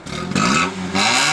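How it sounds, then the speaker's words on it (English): A Honda engine running with its muffler removed revs loudly in a parking lot, giving a raw, rasping roar that climbs in two close bursts, steady and near with no talk. "took his freaking exhaust, his muffler off in the middle of a parking lot like a savage"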